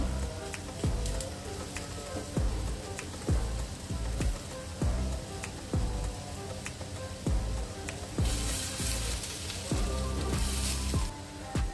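Steady crackling sizzle with a dense hiss throughout, punctuated by regular soft taps, like satay skewers grilling over hot coals.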